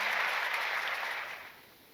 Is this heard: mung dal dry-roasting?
no